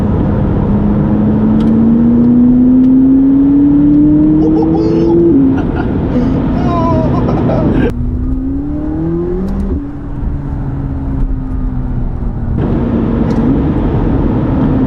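McLaren 570GT sports car accelerating, engine note rising steadily through the gears with a smooth climbing whine and a brief shift drop, heard from inside the cabin with someone talking over it.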